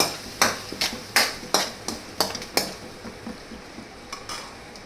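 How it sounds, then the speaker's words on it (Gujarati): A paste of green chillies, ginger and garlic sizzles in a pan under a soft frying hiss while a spoon strikes the pan in about seven sharp, rhythmic knocks, then fainter scraping taps as the stirring settles. "આદુ અને લસણ, એની પેસ્ટ બનાવી હતી, એને આપણે આમાં નાખી દેવાની."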